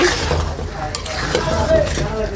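Mango pickle cooking in oil is stirred in a pan, with a continuous sizzle and scraping stir strokes close up.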